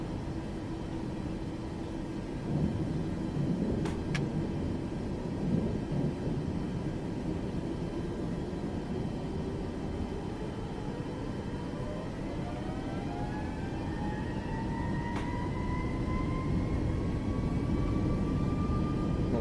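In a flight video game, an airplane takes off with a continuous loud engine roar as the turbine pitch winds steadily upward. A few faint clicks come over the roar, with no voices.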